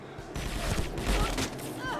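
Gunfire in the online shooter Sudden Attack during a ranked match, a dense burst of rapid shots with booming reports across the whole moment, layered under continuous player chatter.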